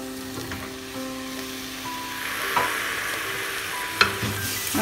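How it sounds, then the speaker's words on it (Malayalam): Chopped tomatoes hit a hot pan of beef curry masala and fry with a steady sizzle, with a couple of sharp spoon clinks against the pan as the mix is stirred. "നമുക്കിതിലോട്ട് തക്കാളി ചേർക്കാം."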